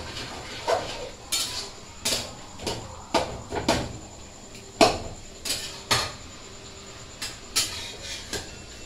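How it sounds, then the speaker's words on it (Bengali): Rice flour being stirred into bottle gourd in a metal cooking pot, heard as a run of sharp, close clanks and scrapes in an irregular rhythm with no talking. "তারপর দেখো এই যে চালের গুঁড়িটা দিয়ে দেবো, দিয়ে আমি নাড়া করবো।"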